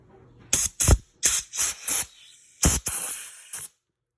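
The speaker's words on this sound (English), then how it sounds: "you take a air compressor nozzle, insert right along the edge" Short bursts of compressed air hiss from an air compressor nozzle worked along the edge of a mold to free cast Christmas pen blanks, about eight sharp blasts in irregular rhythm, close and fairly loud, with no talking.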